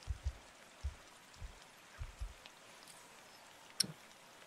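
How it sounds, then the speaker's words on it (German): Rain falls in the video game Avatar: Frontiers of Pandora, a faint, steady patter spread evenly through the scene, broken by a few soft low thumps and one sharp brief tick near the end, with no talk. "Oh, warte mal, jetzt regnet es doch."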